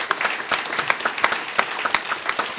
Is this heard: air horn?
no